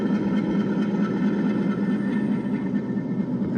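A 1/24 scale Cape gauge Class 34 GE U26C model locomotive coasting along its track, giving a steady low rumbling drone with a faint whine above it that holds even and continuous, close by and without pauses.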